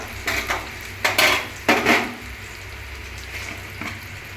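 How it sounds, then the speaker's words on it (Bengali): Spices being added one by one to softened onions in a pan while cooking chicken kosha, heard as a few close bursts of sizzling and utensil scraping against the pan, then a quieter steady fry. "পেঁয়াজগুলো নরম হয়ে গেছে এবার আমি একে একে মশলাগুলো দেবো"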